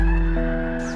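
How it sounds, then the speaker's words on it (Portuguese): Civil Defense warning siren during a monthly test, a loud sustained wailing tone with layered harmonics that shifts pitch partway through, close and dominant. "Esse barulho que vocês estão ouvindo é da sirene da Defesa Civil."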